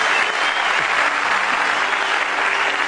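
Studio audience applauding a poet on a televised poetry competition show, steady dense clapping filling the whole stretch without pause.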